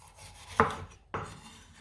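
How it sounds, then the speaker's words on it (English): Two crisp, close knife chops through a yellow pepper on a board, about half a second apart, with faint rustling between them. "Then chop the yellow pepper"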